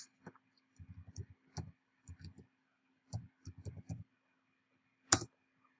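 Someone types a web address on a computer keyboard. Quiet, close key clicks come in short irregular bursts separated by pauses, with a sharper lone click near the end.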